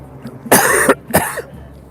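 A pair of loud, nearby coughs from chemical-laden grass outside the Broadview, Illinois detention center, in quick succession, the first longer and rougher, the second brief, with quiet around them.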